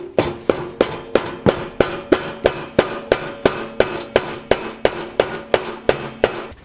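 Repeated hammer blows ring out on a Briggs & Stratton engine part during camshaft work, about three strikes every second in a steady, evenly spaced metallic pounding, close and loud with no talking.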